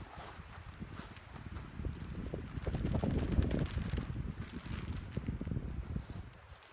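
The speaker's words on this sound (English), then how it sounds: "It's officially windy." Strong wind buffets the microphone in heavy gusts, rumbling and swelling louder in the middle before easing off a little.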